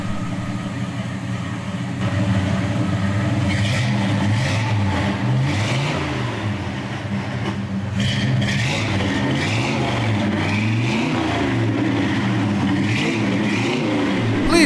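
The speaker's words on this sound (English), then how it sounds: "listen to that awesome big block Chevrolet sound through those dual Flowmaster mufflers as it's revved up through the RPM ranges" A 1955 Chevrolet 150 fitted with a 454 big-block V8 breathes through dual Flowmaster mufflers, revving up and down repeatedly in loud, rising and falling swells over about fifteen seconds.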